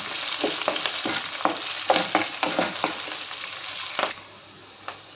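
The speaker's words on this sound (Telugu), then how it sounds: "ఇవన్నీ కొంచెం మీడియం ఫ్లేమ్లో స్టవ్ పెట్టుకొని బాగా వేయించుకోవాలి" Mustard-style tempering with curry leaves and other ingredients frying in a pan on medium flame for a mango jaggery curry: a steady sizzle with repeated scraping stirs in an uneven rhythm, close and fairly loud, then it settles into a quieter hiss.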